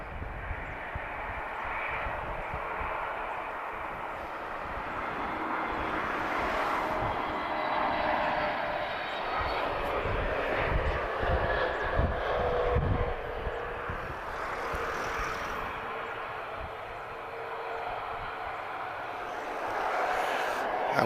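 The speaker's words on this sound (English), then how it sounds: "So inbound TP1570. We have an A320neo arriving from Boa Vista." An Airbus A320neo airliner arriving at Lisbon Airport gives a sustained jet engine roar that swells and eases over about twenty seconds, moderately distant, with a faint voice talking at times.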